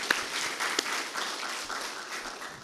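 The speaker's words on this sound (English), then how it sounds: "Can we get a round of applause for Bini Union again?" An audience at a question-and-answer session with a state governor at a London summit gives a short, fairly faint round of applause, a soft, even patter of many hands that gradually thins out.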